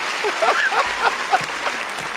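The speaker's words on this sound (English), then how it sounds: "Let's give Mike a round of applause for his inner Denzel." A small studio audience on a talk show claps for a couple of seconds, a moderate burst of applause with some whoops and voices mixed in.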